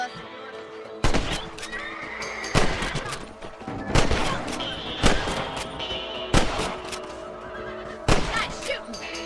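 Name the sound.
gunshots shooting rabbits in the Red Dead Redemption video game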